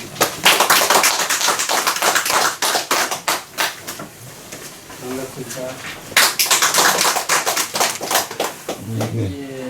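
A lecture audience gives a round of welcoming applause, dense clapping that surges, thins near the middle and picks up again, with brief speech breaking in toward the end.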